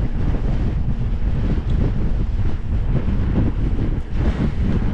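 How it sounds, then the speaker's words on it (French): Strong, steady wind buffets the microphone throughout while riding an electric-assist mountain bike at the Col de la Pierre Saint-Martin, a loud continuous low rumble with gusty surges and no speech. "il y a encore un peu de vent, mais ouais, ça souffle là, ça souffle bien"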